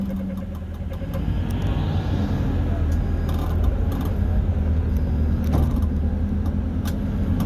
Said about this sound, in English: We're going to Kanara, and just show you inside the bus.